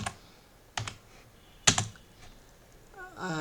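Quiet, separated keystrokes on a computer keyboard enter a tmux command in an Ubuntu terminal: a few sharp clicks spaced irregularly, with a voice starting faintly at the end.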